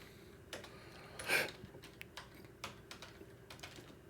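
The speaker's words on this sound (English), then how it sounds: "I'm typing stuff into Google and nothing's happening." Typing on a computer keyboard, heard as quiet, irregular clicks and taps close by, with one louder clatter of keys near the start and otherwise soft, scattered keystrokes.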